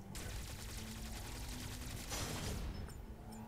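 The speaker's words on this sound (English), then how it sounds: "So you gotta shoot the door." Blaster fire against a door in the video game Metroid Dread, a sustained rapid burst of crackling energy shots over a low hum, swelling briefly before a couple of faint chimes.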